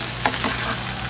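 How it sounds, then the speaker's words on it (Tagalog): Fried rice frying in a pan, a steady, loud, close sizzle with small crackles and stirring scrapes throughout, with no voices. "dali ra ka magluto og fried rice"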